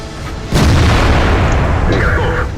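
A KV-2 tank's big howitzer fires in World of Tanks, one heavy booming shot that rolls on into a long rumbling decay, loud and close.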